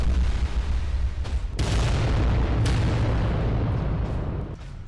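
Titan guns firing and exploding in Adeptus Titanicus: Dominus, a dense, loud rumbling barrage of booms and blasts that continues steadily, with a couple of sharper cracks, before tapering slightly at the end.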